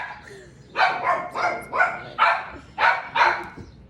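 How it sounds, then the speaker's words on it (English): A dog barks repeatedly, about seven sharp barks in a steady rhythm, close by and fairly loud, with no talking. "Why are you barking at Vincent like a pendejo?"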